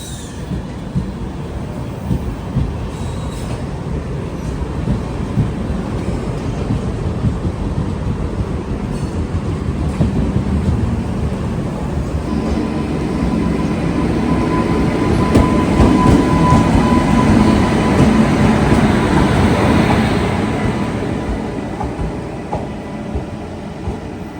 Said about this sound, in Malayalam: ഇതാണ് നമ്മുടെ കൽക്ക ന്യൂഡൽഹി ശതാബ്ദി കേട്ടോ.